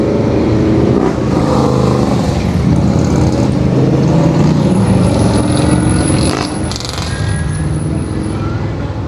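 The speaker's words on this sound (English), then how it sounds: "I like Harleys, they're just so noisy" Harley motorcycles ride past close by with a loud, steady engine roar that fills the whole stretch and eases slightly toward the end.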